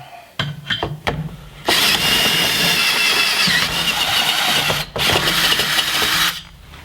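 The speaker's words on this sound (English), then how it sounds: "Then I'll use the 5/16 drill bit." A 5/16 drill bit driven by a power drill while installing JcrOffroad Deluxe rock sliders: a few taps and clicks, then two long loud whirring bursts of drilling close by.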